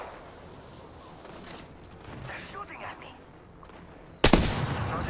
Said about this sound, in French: Ils sont en train de se tirer dessus.